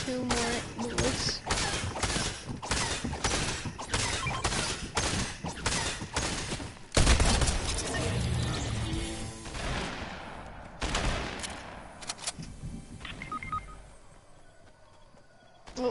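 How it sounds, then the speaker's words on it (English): Fortnite combat with charged shotgun fire, a long stretch of rapid repeated blasts and thumps in steady rhythm, one heavy hit midway, then the shooting thins out to sparse pops and quiet near the end. "This man has a freaking charged shotgun."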